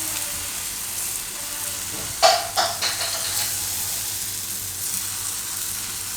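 Spinach and gram flour pudla batter sizzles steadily on an oiled tawa over a low flame, with a few sharper crackling bursts as the batter is spread, close and continuous throughout.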